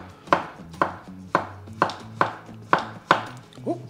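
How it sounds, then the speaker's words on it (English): A knife slices zucchini into thin rounds on a cutting board, giving seven crisp, evenly spaced chops close up, each with a short fading tail, and a small clatter at the end. "All right, so zucchini, let's get to slicing."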